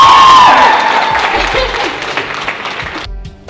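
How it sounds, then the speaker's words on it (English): Audience applause at an inspirational event for young women, a loud wash of clapping from a sizable crowd with some cheering and whoops, gradually thinning and fading toward the end. "So let's give her another round of applause."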